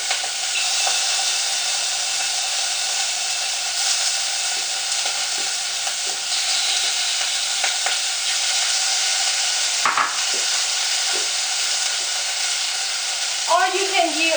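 Eight to ten shrimp sizzle in a hot pan, giving a constant bright frying hiss with occasional stirring clicks and scrapes, close and fairly loud, with no talk.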